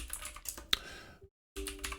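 Typing on a computer keyboard, a close run of quick irregular key clicks with one sharper tap, then a brief pause of near silence before the tapping resumes.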